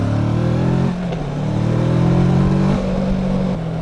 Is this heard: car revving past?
yes